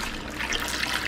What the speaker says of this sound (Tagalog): hugasan na natin ng tubig